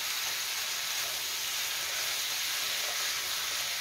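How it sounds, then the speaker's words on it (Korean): Vegetables and meat for old-style jjajangmyeon stir-fry in a pan with a dense, even sizzle and hiss, steady and close throughout, without voices. "채소하고 고기하고 어우러지게 같이 볶아주세요"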